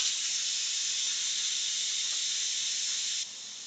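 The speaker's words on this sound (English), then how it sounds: "Can you hear the loud hissing?" Steam hisses loudly and steadily from a multi-pot pressure cooker venting its pressure, a bright continuous jet that drops abruptly to a lower level near the end.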